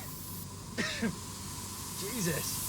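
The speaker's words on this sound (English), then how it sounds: "What's with all the killer spray?" Insecticide spray hisses steadily through a 1970s airliner cabin, a continuous close spray noise filling the whole moment while a man briefly mutters a short exclamation over it.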